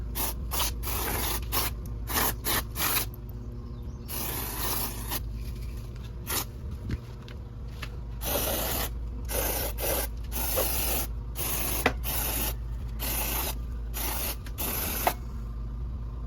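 Non-contact cleaner is sprayed into the inside of a scratchy amplifier in many short and longer hissing bursts of varying length, close and loud, over a low steady hum.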